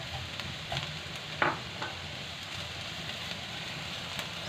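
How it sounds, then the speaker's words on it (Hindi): Shredded cabbage and other vegetables fry in a pan for chicken egg fried rice, a faint, steady sizzle with a brief utensil clack partway through. "और इसको मज़ीद फ्राई करेंगे। सब्जियां फ्राई हो चुकी हैं।"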